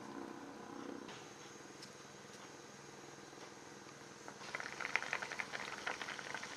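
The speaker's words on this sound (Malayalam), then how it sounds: "ഇതിപ്പോൾ തിളച്ച് തുടങ്ങിയിട്ടുണ്ട്." A tomato curry with coconut starts to boil in a pot, faint at first and then breaking into close, soft, rapid bubbling toward the end.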